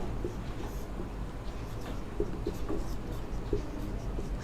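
Chalk or marker writing on a classroom board during a Hindi grammar lesson, a steady faint scratching with small tapping strokes over a noisy, hissy background.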